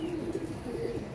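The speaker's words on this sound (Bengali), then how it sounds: "একটা নাপ্তা কবুতর" A Napta pigeon giving a brief low, soft, throaty coo at close range, murmuring steadily for about a second.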